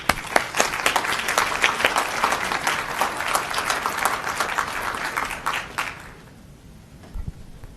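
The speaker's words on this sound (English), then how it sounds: "Please give them a big round of applause." Big round of applause from the audience at an OPS school board meeting, dense steady clapping for about six seconds before it cuts off and the room drops to quiet.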